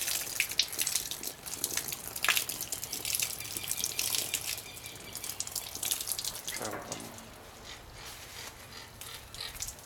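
Water poured from above and running down over a cow being washed before artificial insemination, a steady splashing, trickling wash that stays fairly loud throughout and eases off toward the end.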